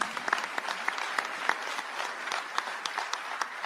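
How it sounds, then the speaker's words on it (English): An audience at a city council inauguration applauds in honour of a departing public servant, a continuous roomful of clapping with distinct individual claps standing out over the steady patter. "You can give a round of applause to Karen."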